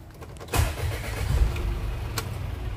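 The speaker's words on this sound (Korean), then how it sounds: "지금 키박스를 돌려보고 있는데" Starter cranking on a Hyundai County minibus with an intermittent starting fault as the ignition key is turned, a loud close burst of mechanical churning that begins abruptly and continues steadily without the engine catching.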